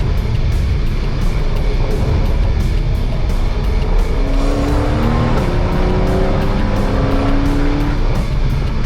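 A Ford Mustang driving on a rocky dirt road, its engine roaring loud and steady throughout, with a rising whine partway through and gravel noise under it.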